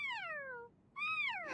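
Two rising-then-falling meows from a cat in an animated show, clear and close, with a short gap between them and no talking.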